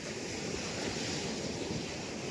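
Sea waves wash onto an evening beach in a steady, broadband surf roar mixed with wind noise on the microphone, continuous and fairly close, with no voices.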